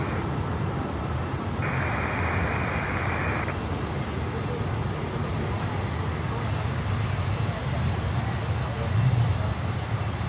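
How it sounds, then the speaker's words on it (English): Qatar Airways Airbus A350-1000 jet from Doha at Miami airport, a steady broadband engine roar that holds at an even, fairly loud level throughout with no pause. "Qatar 350 1000 from Doha"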